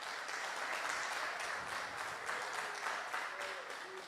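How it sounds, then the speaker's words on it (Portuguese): A church congregation claps together in a sustained, dense burst of applause filling the room, with faint voices mixed beneath the clapping. "Dá uma salva de palmas para Jesus aí, ó."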